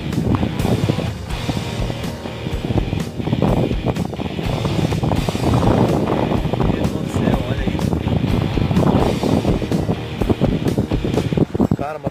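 Strong storm wind in Rio Grande do Sul roars and buffets a nearby microphone in continuous gusts, loud throughout, while people talk over it.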